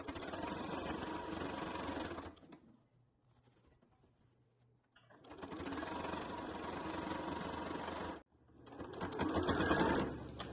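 A domestic sewing machine stitches along the edge of a quilted family-size beach bag, running in steady bursts of whirring motor and needle clatter with two short pauses between runs, close and fairly loud.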